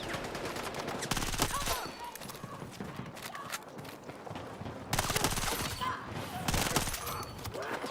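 Rapid bursts of automatic gunfire crackle through a Battlefield 6 match, dense volleys in the near field with louder flurries around the middle and end, over continuous battle noise and some voice.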